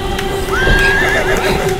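A horse in the Minecraft video game gives one clear rising whinny, close and prominent, over a steady ambient background of game noise.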